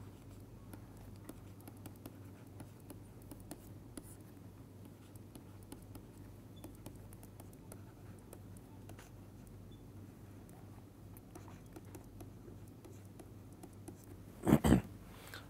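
Chalk or pen writing out an equation on a board during a physics lecture on electromagnetic waves, with faint continuous scratchy strokes over a steady low room hum and a brief louder knock near the end.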